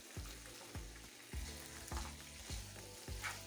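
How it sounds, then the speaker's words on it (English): Pasta with broccoli sizzles and steams in a pan after a splash of water, a steady hiss with soft rhythmic stirring scrapes repeating about every half second, close and continuous. "So just letting this steam for a few minutes."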